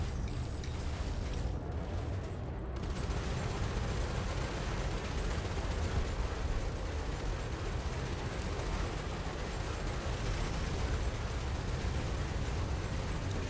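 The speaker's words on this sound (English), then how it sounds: "Multi-cannons are spending a fair bit of time reloading." Spaceship multi-cannons in Elite: Dangerous fire steadily for the whole stretch, a dense, loud and unbroken barrage of rapid shots with no voices over it.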